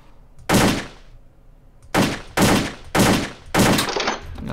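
AK-47 shots at a video game shooting range, five sharp loud bursts spaced about half a second to a second apart, each with a short ringing decay, over a quiet background.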